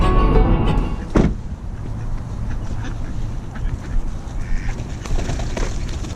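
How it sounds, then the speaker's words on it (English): Several ducks quack near the listener at a park fishing spot, short bursts over steady outdoor background noise, with one sharp louder call early on. "those ducks clearly are getting fed because they came up to me immediately when I got here"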